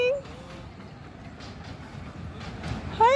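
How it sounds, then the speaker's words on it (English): A train rolls past at the Stanišići ethno village with a low, muffled rumble, while voices talk and faint high squeals rise near the start and end. "The train is coming."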